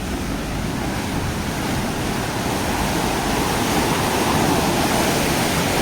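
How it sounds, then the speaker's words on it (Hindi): Fast canal water rushes loudly and steadily near a dam in Nuapada, Odisha, a dense continuous roar with no break throughout. "ये है नहर और कितना खतरनाक पानी चला"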